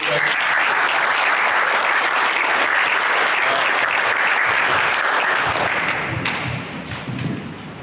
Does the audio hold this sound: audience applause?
yes